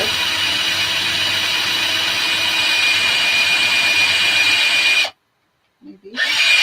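Power drill boring a hole through a paint stick sign, a loud steady whine running continuously for about five seconds before cutting off abruptly, followed by a brief quiet and a short restart.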